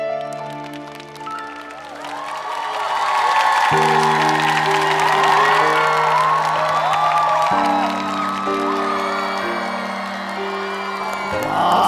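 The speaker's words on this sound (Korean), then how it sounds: "박수." A TV trot music show's studio audience breaks into sustained applause with whoops and cheers, loud and continuous for about twelve seconds, layered over the fading sustained chords of a rock ballad.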